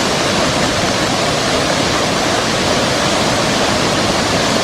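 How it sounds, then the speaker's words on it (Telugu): A waterfall swollen by heavy rain, near JP Cheruvu village in Racherla mandal, Prakasam district, roars in a constant dense rush of falling water, loud and unbroken, with no voices. "రాచర్ల మండలం జేపీ చెరువు గ్రామ సమీపంలోని జలపాతం పరవళ్లు తొక్కుతోంది"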